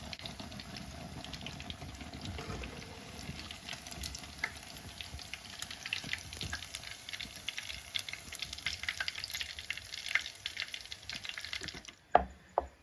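Coriander omelette frying in oil in a pan gives a soft, steady bubbling sizzle with fine crackles throughout, ending in a couple of sharp utensil clicks.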